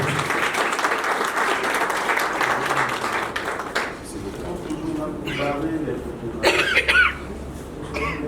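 Applause from guests at a civil wedding ceremony in a town hall, a broad steady clatter of clapping that fades after a few seconds, followed by scattered coughs, murmurs and voices in the room.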